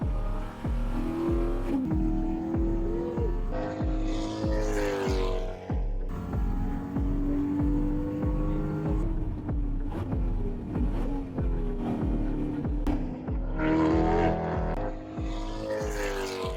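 A Corvette race car laps a track at speed, its engine droning steadily loud and close with harmonic pitch shifts as it accelerates and changes gears, with no talk over it.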